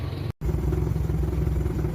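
A Toyota 4K engine idles nearby with a steady, rhythmic low chugging and light mechanical clatter, broken by one very brief dropout early on, then running on evenly.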